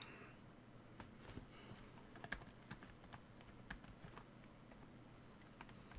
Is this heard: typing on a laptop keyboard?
yes